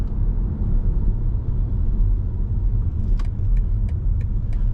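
A 2024 BMW iX1 electric car accelerating on the road, heard from inside as a loud, steady low rumble of road and tyre noise, with faint jingling ticks late on.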